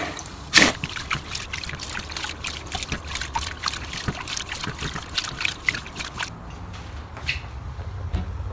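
Water trickles and splashes steadily as rice is rinsed and washed before parboiling for Nigerian jollof, with a sharp clatter near the start and soft sloshing throughout, close and moderately loud with no talking.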